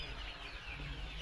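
Local chickens at a poultry farm holding about 600 birds, a close, continuous murmur of clucking fowl over steady farmyard ambience, with no talking.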